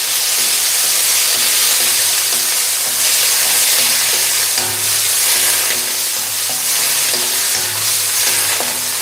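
Frozen peas tipped into a hot pan of cumin rice, giving a loud, continuous frying sizzle and hiss with faint stirring clicks, steady and close with no talking.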